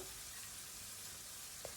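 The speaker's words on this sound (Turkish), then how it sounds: "Her iki yüzeyini de kıpkırmızı oluncaya kadar kızartacağım." Chicken pieces searing in hot oil in a pot, a steady, hissing sizzle throughout with a faint clink near the end, quiet and close without talking.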